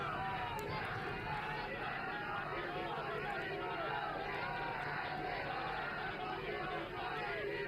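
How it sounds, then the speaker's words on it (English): A large outdoor crowd welcoming the Prime Minister, Narendra Modi, at Rajghat produces a dense continuous roar of cheering and chanting, steady and fairly distant, with voices blending into the mass. "Prime Minister invited with a loud, thunderous applause as well as chants"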